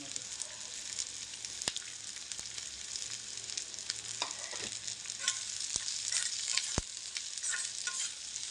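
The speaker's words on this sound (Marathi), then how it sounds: "आपण कांदा भाजायला घेऊया सगळं ते आपण कांदा टाकून घेऊया" Onions sizzle steadily in hot oil in a pan for Malvani-style chicken, with a spatula scraping and clinking against the pan now and then, close and constant.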